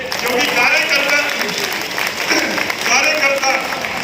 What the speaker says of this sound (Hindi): ये मेरे ना बोलने की ताली बजाई है ये सबने।